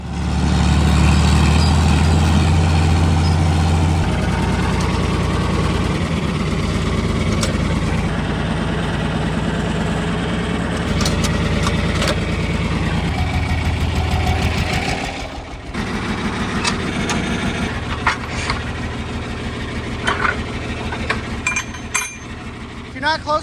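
A tractor engine drones and idles in a farming video game, with a loud steady rumble that shifts pitch as it works, light clinks throughout, and a person talking over it.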